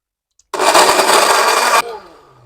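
A blender grinds spice paste loosened with oil and water, a loud steady whir that starts abruptly and runs for just over a second before cutting off into a brief fading spin-down.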